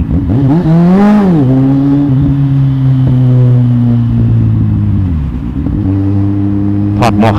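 A Kawasaki Z800 motorcycle engine revs loud and close in slow traffic, swelling up once early, then holding a steady throaty drone before dipping and settling back to idle.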